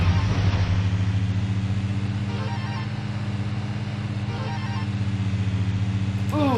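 Car engine in Midtown Madness 2 driving through London, a steady droning hum with sustained low harmonics that holds at a constant pitch, loud and continuous throughout.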